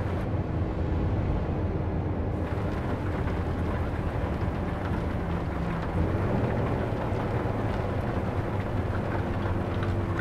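Thunderstorm in American Truck Simulator: steady, dense rain hiss with low rumbling thunder rolling underneath, loud and continuous throughout with no talking.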